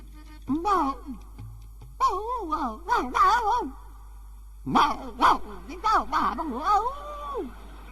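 A voice imitates a dog in three bursts of wavering, pitch-bending barks and whines, with short pauses between them.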